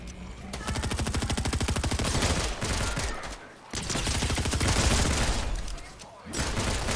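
Rapid automatic gunfire in a Fortnite match, long sustained bursts with brief pauses between them, loud and close.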